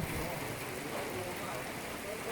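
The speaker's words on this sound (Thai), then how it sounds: "ฝนดีเหลือเกินนะครับ" Heavy rain falling, a steady even hiss of downpour filling the whole stretch, soft and somewhat distant.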